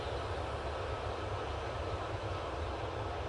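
A Jet2 airliner, likely an A321neo, sits lined up on a runway at Manchester Airport with engines running, a steady low distant roar and broadband rush at moderate level, no talk.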